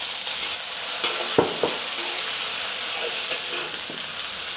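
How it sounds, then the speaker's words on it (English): Garlic and ginger sauté over low heat in a pan, giving a soft continuous sizzle with a few light clinks and stirs of a utensil, close and fairly quiet. "saute the garlic and ginger over low heat"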